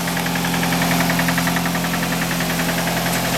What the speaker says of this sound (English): Got a little bit of a knocker here.